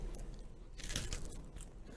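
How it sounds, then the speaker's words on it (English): A golden Oreo cookie crunched right against the microphone: one loud, close crisp bite-crunch near the middle, set among softer crumbly crackles and chewing noise, with no talking. "Let me show you how to do a mic crunch."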